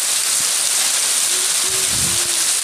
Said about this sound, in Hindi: बारिश हो रही है, आप देख सकते हैं कितनी तेज बारिश हो रही है।